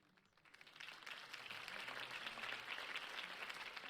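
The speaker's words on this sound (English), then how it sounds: "If only Mr. Wayne, my campaign's largest backer, could have heard that applause" Crowd applause in the Batman: The Telltale Series game rises after a campaign speech, a steady wash of many hands clapping that swells within the first second and holds at a moderate level with no voices.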